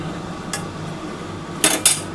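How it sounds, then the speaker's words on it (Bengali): Metal lid set onto a cooking pot of lentil-dumpling curry: a faint tap, then two sharp metallic clanks close together near the end, over a quiet kitchen hum, no talking. "আমি ঢাকাটা দিয়ে দিচ্ছি"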